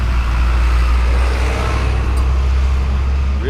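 A 1956 Dodge Sierra wagon's 315 V8 engine with push-button automatic transmission runs at a steady, loud, close rumble that stays even throughout.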